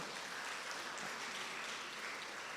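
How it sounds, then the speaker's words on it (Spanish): Congregation applauding during a church sermon, a continuous even wash of clapping from a crowd, heard at a distance and without talk. "Un fuerte aplauso"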